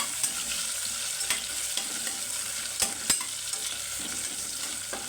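Long-sliced onions fry in a pan for coriander biryani, with a soft, continuous sizzle broken by sharp scraping clicks as they are stirred at irregular intervals.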